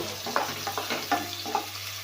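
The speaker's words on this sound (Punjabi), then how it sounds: "ਪਿਆਜ਼ ਨੂੰ ਐ ਚੰਗੀ ਤਰ੍ਹਾਂ ਭੁੰਨਾਂਗੇ" Chopped onion frying in a pan, a steady close sizzle with a few brief stirring scrapes and clatters over it, no voices.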